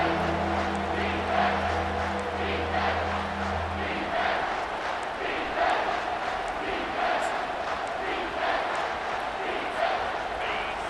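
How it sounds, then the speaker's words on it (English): A stadium crowd roars in EA Sports College Football 25 during a third-down play, a loud sustained wall of cheering and shouting that swells in waves throughout, with a commentator's voice underneath. "this crowd is tearing the lid off this place"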